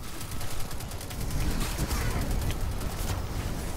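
Sustained rapid gunfire during a Crucible match in the Destiny 2 beta, a steady crackling stream of overlapping shots that grows denser partway through, with faint voices mixed in.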